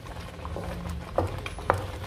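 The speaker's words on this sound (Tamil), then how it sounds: "இப்போ பாருங்கள், ரவை வந்து நல்லா வெந்து" Semolina cooking in a pan for Sri Lankan kesari, giving a low, soft bubbling and sizzling hiss with a couple of faint spoon clicks against the pan, close up with no talking.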